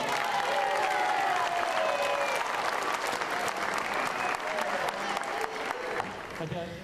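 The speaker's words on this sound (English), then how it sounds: "Give yourselves a big round of applause." Large crowd of runners applauding after a marathon in Rotorua, a broad sustained wash of clapping that holds steady for several seconds and slowly thins toward the end, with faint voices mixed in.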